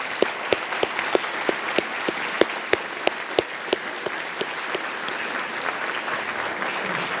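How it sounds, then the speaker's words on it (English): Audience at an annual business meeting applauds steadily for about seven seconds, with dense broadband clapping and several sharp, louder individual claps standing out in a regular rhythm near the microphone. "I'm going to ask that we give them a round of applause"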